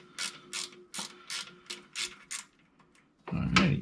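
A ratchet wrench loosening a 15 mm nut on the transmission mount of a 1997 Jeep Wrangler TJ, with seven or eight crisp, evenly spaced clicking bursts followed by a louder clank at the end.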